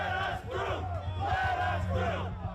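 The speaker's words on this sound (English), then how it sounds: "Trump allies Roger Stone and Alex Jones rile up the crowd on the eve of Trump's speech at the Save America rally." Riled-up crowd shouting and chanting at the Save America rally on the eve of January 6, a dense, loud, continuous roar of many voices with rhythmic surges of yelling.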